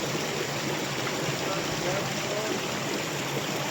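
A creek in California rushes and burbles steadily at a gold prospecting site, a constant close broadband wash of flowing water with no speech.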